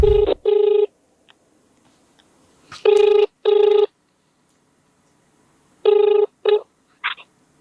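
Ringback tone on an outgoing phone call sounds in three loud, close double pulses, each pair separated by several seconds of near silence.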